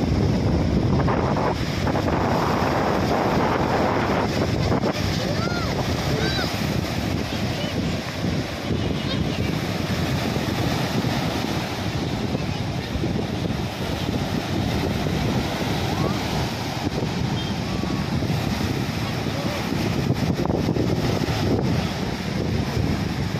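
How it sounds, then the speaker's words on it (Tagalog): Typhoon-strength wind roars steadily across the microphone near anchored ships, buffeting constantly over the rumble of the sea, with faint talk beneath. "Napakalakas ang hangin."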